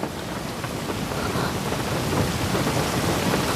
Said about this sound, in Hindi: लेकिन बाहर बारिश हो रही है।